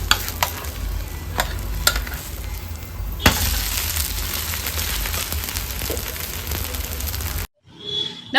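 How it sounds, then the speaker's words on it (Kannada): Dosa cooking on a pan, a steady sizzle with scraping and clinks as it is turned, a sharp knock midway, briefly dropping to silence near the end. "ದೋಸೆ ಈ ಹದದಲ್ಲಿ ರೆಡಿ ಆಗುವಾಗ ಮಗ್ಚಿ ಹಾಕಿ ಬೇಯಿಸ್ಕೊಳ್ಳೋಣ."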